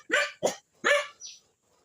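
Dogs barking during a countryside outing: three sharp, close barks in quick succession, then a short higher yelp before silence.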